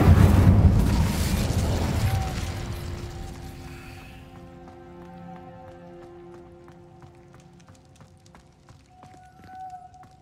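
A burst of fiery magic from the Incendio spell in Hogwarts Legacy erupts loudly and roars for a few seconds, then fades under soft, sustained tonal game music with light chimes.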